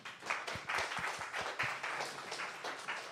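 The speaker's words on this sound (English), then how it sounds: "let's give the speaker another round of applause" A conference audience at JuliaCon applauds a speaker with a short, fairly quiet burst of clapping, distinct individual claps audible in an uneven rhythm throughout.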